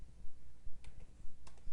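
Typing on a computer keyboard at a command prompt: a few quiet, close keystroke clicks in short irregular bursts.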